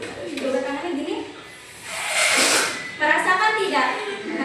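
Air hisses from an opened balloon in a classroom science lesson, a broad rushing burst of roughly a second in the middle, with a teacher and children talking before and after it.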